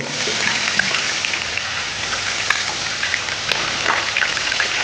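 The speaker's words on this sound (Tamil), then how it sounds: "நம்ம டொமேட்டோ போடுறோம் தக்காளி போட்டு வதக்கிட்டு இருக்கோம்" Tomatoes sautéing in a pan for a cauliflower keema dish, giving a steady, dense crackling sizzle with scattered pops throughout, close and fairly loud, with no talking.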